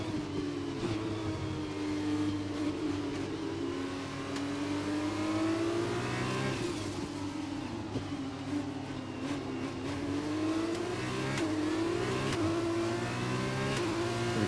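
A Formula 1 race car engine in the F1 2021 video game revs continuously, its pitch sweeping up and down through gear changes. The engine is loud and steady with no talking.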